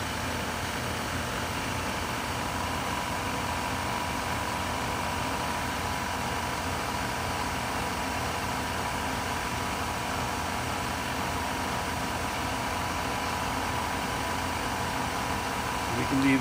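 A Myford 7x7 lathe headstock spun at 3000 RPM by a variable frequency drive gives a steady, even mechanical whir with broadband hiss. The tone stays constant and moderately loud throughout, with no voices over it.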